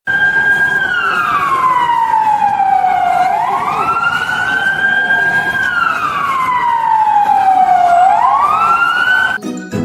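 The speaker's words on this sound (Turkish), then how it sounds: "İtfaiyenin sesi de bu şekildedir." A wailing siren sweeps slowly up and down in long, steady cycles, loud and continuous like a fire truck passing close by.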